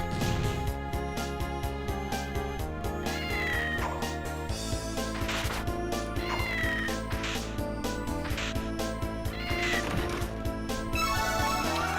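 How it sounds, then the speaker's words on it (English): A cat meows repeatedly in Castlevania: Order of Ecclesia, its cries rising over dense, steady in-game music and sound effects, several distinct meows spread through the stretch. "I also hear a cat somewhere."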